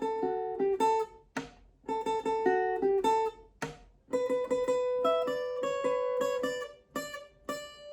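A guitar picks a song riff from Squid Game, with bright plucked notes in short repeated phrases separated by brief pauses and a fuller, sustained run in the second half.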